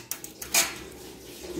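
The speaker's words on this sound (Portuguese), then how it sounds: "O Tcholi está lavando a louça" Dishes, pots and cutlery clatter during washing, with a few light clinks followed by one louder metallic clash, heard at a moderate distance with no talk.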